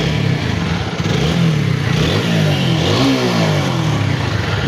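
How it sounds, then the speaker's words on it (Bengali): A 2023 Apache 4V motorcycle engine runs loud and close, with a continuous growling idle that rises and falls in revs and carries a mechanical rattle. No one speaks. "বাইকটার সাউন্ড কোয়ালিটি দেখেন"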